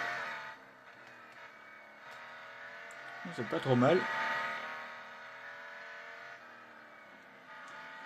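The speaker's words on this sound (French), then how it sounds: "c'est un V8 biturbo made in Koenigsegg" A Koenigsegg One:1 twin-turbo V8 racing car in Real Racing 3 revs high in short bursts, its engine note rising and falling over a steady background drone while someone talks across it.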